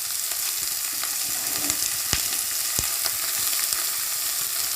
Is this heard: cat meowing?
no